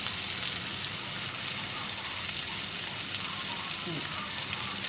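Ginger paste frying in a pan for egg curry, a dense, even sizzle close by that runs without a break, with faint low movement beneath it.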